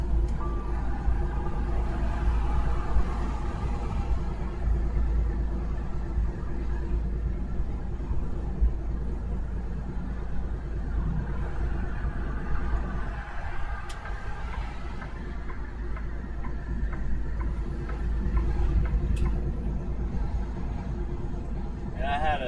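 A Peterbilt T680 truck engine gives a steady, continuous low rumble with road noise, close and unbroken for the whole stretch.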